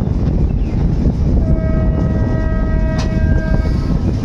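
A train rolls slowly across a bridge section, a steady loud rumble of wheels and carriages with a sustained tonal screech of wheels on rails rising above it partway through.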